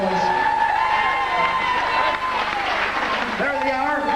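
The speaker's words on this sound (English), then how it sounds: "Huge round of applause." Applause and cheering from a crowd at a fight night as women boxers enter the ring for a ladies' bout, loud and continuous throughout, with shouting and voices mixed in.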